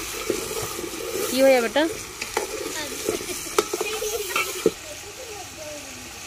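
Chicken frying in a pan gives a steady close sizzle with occasional stirring clatter, while voices talk over it at intervals.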